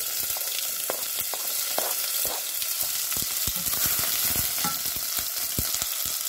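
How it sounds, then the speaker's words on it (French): Onions go into hot oil in a cooking pot and fry with a loud, dense, continuous sizzle, along with scattered pops and stirring clatters close by. No one speaks. "Une fois l'huile est chaude, je viens renverser mes oignons"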